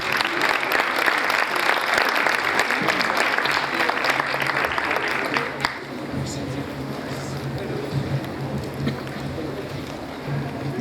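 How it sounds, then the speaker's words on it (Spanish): A strong burst of audience applause welcoming a speaker at an academic conference, a thick roar of clapping for about six seconds that then thins into lighter, softer clapping and room murmur. "Vamos a recibirlo con un fuerte aplauso"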